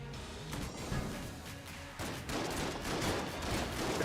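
Devolver Bullets gunfire in a roguelike video game, a loud continuous barrage of shots with crashing impacts, swelling denser after a short break midway.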